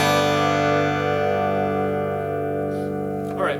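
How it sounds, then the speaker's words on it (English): A guitar in open G tuning (D G D G B D) rings out from a single open strum, its sustained chord slowly decaying, with a faint scrape of the strings near the end. "Your guitar is going to be in an open G tuning"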